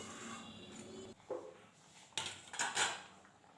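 A lid goes onto a pot of simmering small-crab curry with a few quiet metallic clinks and clatters near the end, after a short scrape, all fairly faint and without talk.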